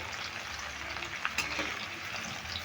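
Okra (bhindi) frying in oil over a medium gas flame, a steady soft sizzle with faint scraping as the pieces are stirred around the pan, quiet and continuous with no voices.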